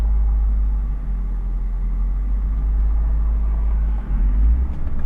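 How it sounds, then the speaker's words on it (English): A 2000 BMW E39 M5 rolls through Salt Lake traffic on an overcast day. A loud, steady low engine and road rumble fills the cabin, with a slight swell near the end as traffic passes. There is no talking. "Oh, traffic."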